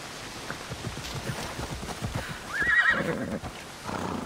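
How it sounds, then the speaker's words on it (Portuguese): Horse from the video game Assassin's Creed Odyssey, called over with hooves clip-clopping under soft rain-like noise, then one short, close neigh near the middle before the hoofbeats carry on. "deixa eu chamar o cavalinho"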